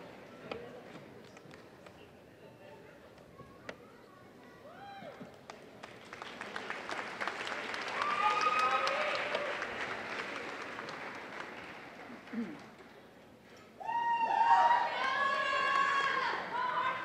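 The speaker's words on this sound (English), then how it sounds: "Can we have another round of applause for all our graduates, please?" Convocation audience applauding graduates of a social work college, a swelling wash of clapping and crowd noise that builds, eases, then surges again loudly near the end, with some cheering and voices mixed in.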